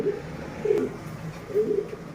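Blue barless German Beauty Homer pigeons cooing: soft, low, repeated coos in a slow rhythm, nearby, with no voices.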